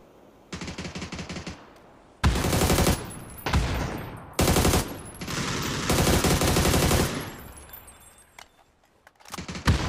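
Bursts of automatic gunfire in a tactical shooter game crackle in several loud clusters, some rapid machine-gun runs and some shorter volleys, close and sharp with brief quiet gaps between them.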